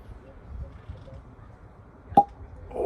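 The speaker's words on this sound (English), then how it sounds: "let's see if we can get a good cork pop here" A cork pops from a bottle of McClelland's Islay single malt Scotch whisky, one sharp close pop midway through a quiet stretch, followed by a faint rustle.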